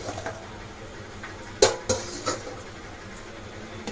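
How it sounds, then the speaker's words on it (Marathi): A lid comes off a pot of simmering pav bhaji with a sharp metallic clank, followed by a couple of lighter clinks against the rim, close by over a low background hum. "झाकण काढून बघूया।"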